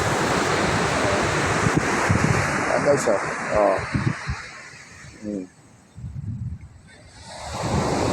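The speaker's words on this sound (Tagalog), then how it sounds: "May kalakasan ng alon, pero mababaw lang yan" Rushing surf and waves breaking on a beach at Dingalan, with strong wind buffeting the microphone, while someone speaks and exclaims over the roar.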